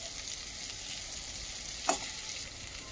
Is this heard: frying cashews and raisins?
yes